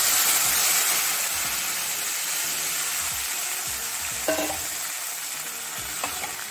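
A tamarind mixture for tamarind rice sizzles and bubbles in a pan, a steady frying hiss fading slightly, with a couple of brief utensil clinks partway through.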